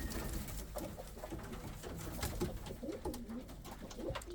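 Indian fantail pigeons coo repeatedly in a loft's young birds section, soft low throaty calls overlapping among rustling and scattered feed pecks, a few close, others farther off.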